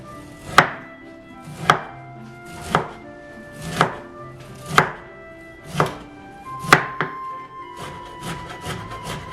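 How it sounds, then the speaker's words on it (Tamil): Broccoli being chopped into small pieces with a knife on a board, about nine crisp, evenly spaced strikes roughly once a second, close and clear with no talk. "இப்போ இதை நாங்கள் சின்ன சின்ன வெட்டி எடுப்போம்"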